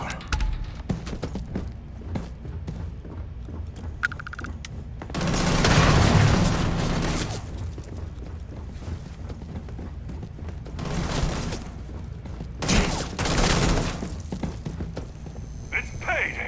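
Gunfire crackles through a Starfield firefight, with loud bursts of shots and booms in clusters amid a noisy battle din, while voices shout over it.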